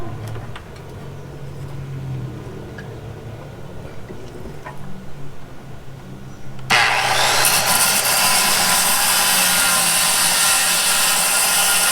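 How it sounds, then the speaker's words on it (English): A circular saw with its blade set to 2 1/8 inches cuts through T1-11 plywood siding, bursting in loud and close about two-thirds of the way in and whining steadily to the end after a quieter stretch of background noise. "I've got my circular saw set at 2 1/8 inches, which should be enough just to cut through that T1-11 up there"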